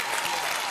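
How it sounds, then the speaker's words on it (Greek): Studio audience at a televised Dancing With The Stars broadcast breaks into steady, dense applause, a continuous wash of clapping that fills the whole brief moment. "Ένα μεγάλο χειροκρότημα για τον Γιούρι"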